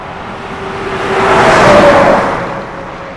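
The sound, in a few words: truck passing on road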